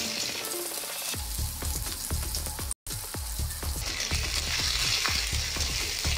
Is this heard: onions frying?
yes